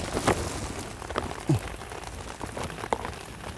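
Rain falls during a storm over a flooded pond area, a faint, steady patter on surfaces with scattered louder drops and taps, no voices.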